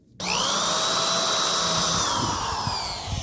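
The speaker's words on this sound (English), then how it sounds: "let me go drill this other side here" A power drill bores through a workpiece on a farm. It starts abruptly and then runs as a loud, steady high whine that holds almost constant, with faint knocks underneath near the end.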